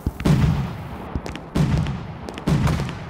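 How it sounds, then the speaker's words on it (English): Three blinking firework mortars launch in the Roblox game Fireworks Playground, each a sharp thump followed by a crackling, booming burst, evenly spaced about a second and a half apart with no talk. "We added new blinking mortars to our game Fireworks Playground."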